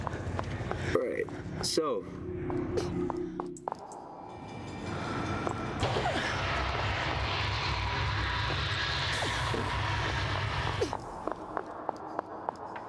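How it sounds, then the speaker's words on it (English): Footsteps ring out with long, loud reverb inside a giant church in the video game A Mother's Inferno, sharp repeated steps toward the end over a heavy rumbling background, with someone talking early on. "the reverb on these footsteps here, it's much louder and much longer than the other footsteps"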